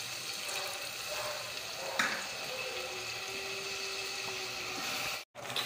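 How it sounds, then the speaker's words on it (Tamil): Tamarind water pours into a cooking pot at home, a steady watery rush running for several seconds, with a brief splash near the start and a short cut near the end. "இப்போ கொஞ்சமாக புளி எடுத்து வச்சுருப்போம், அதை ஊற்றிக்கலாம்."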